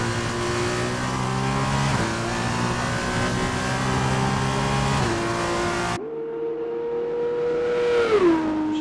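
Formula 2 race car in a racing video game at Monza on a flying lap, its engine droning loud and steady with rising pitch, dropping on upshifts near two and five seconds, then a clearer single tone sweeping down and back up, no talk.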